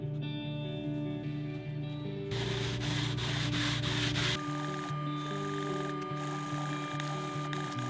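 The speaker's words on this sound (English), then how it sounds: "I then used a red Scotch-Brite pad and a sanding block." Steady abrasive rubbing of a red Scotch-Brite pad on a sanding block across a metal license plate adapter for an Alfa Romeo Giulia 105, close and continuous, with a louder, rougher stretch in the middle over a faint background hum.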